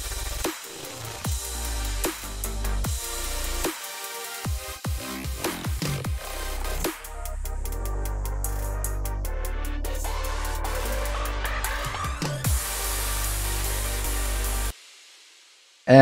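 The impact section of a dark hardstyle track plays alone: heavy pounding kicks and distorted bass under dense layered synths, with breaks and rising sweeps before cutting to near silence at the end.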